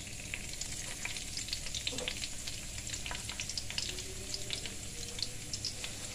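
Spices with lemongrass and lime leaves sizzle and crackle steadily in a hot pan with oil, a close, continuous frying hiss broken by occasional stirring scrapes.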